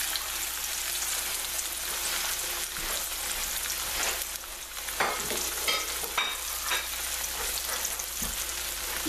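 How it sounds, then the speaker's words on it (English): Chilean sea bass fillet frying in a generous layer of oil in a pan, a steady close crackling sizzle running throughout with bursts of sharper spattering pops, no talking. "it'll be deep frying as soon as I turn it over"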